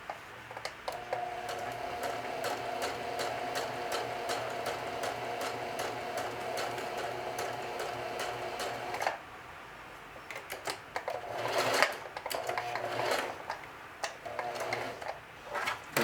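A sewing machine runs steadily, stitching a watch pocket onto a denim shield, a rapid even whir for several seconds, then a pause and shorter bursts of stitching with small clicks between them.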